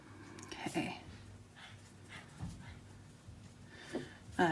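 Dogs whimper and pant in short bursts after being put out of the room where rock painting is underway, with small yips scattered across the moment; a person's voice can be heard intermittently alongside them.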